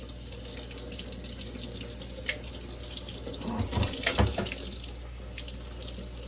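Warm water runs steadily from a tap into a sink while a doll's hair is soaked and washed, a continuous close splashing with small shifts as the hair and hands move through the stream.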